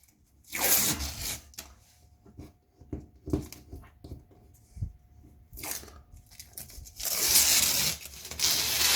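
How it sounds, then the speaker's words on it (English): Masking tape ripped at an angle off freshly caulked shower seams: several loud, close tearing rips, the longest near the start and end, with rustling and crinkling of the balled-up tape in between. "what I'll do now is just rip off the tape"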